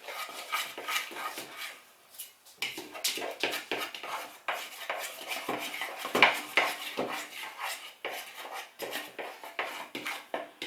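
Homemade red slime made with very little water is stirred in a bowl, producing quiet, rhythmic scraping and clinking strokes with a short pause early on before the stirring resumes.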